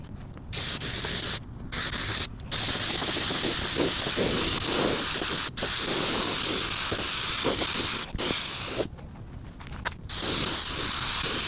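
A spray gun lays clear coat onto forged carbon fiber fenders, a loud, close, continuous hiss broken by a few brief pauses between passes.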